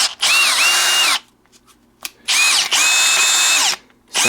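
A Teccpo half-inch brushless cordless drill runs in loud, close bursts, its high motor whine rising and dipping in pitch, with brief pauses between runs and no talking.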